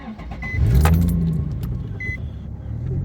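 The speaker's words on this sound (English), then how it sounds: "I'll go and start it up while I'm inside the car." A Nissan 350Z cranks and fires up, its engine swelling into a loud idle after a brief starter whine, with a couple of light chimes.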